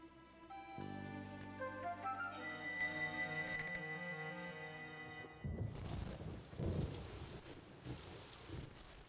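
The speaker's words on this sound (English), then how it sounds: "a thunderstorm causes chaos at the hotel" A thunderstorm lashes a hotel, with steady heavy rain and low rolling thunder rising in after a stretch of sustained musical tones fades out. No one speaks.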